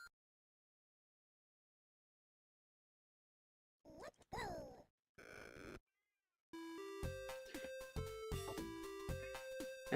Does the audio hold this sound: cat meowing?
yes